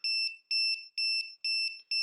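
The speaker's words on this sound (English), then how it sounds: "if you are more than 3 or 5 degrees out, the laser will beep." A laser level's tilt warning beeps high and electronic in a steady rhythm, about two tones per second, clear and alone.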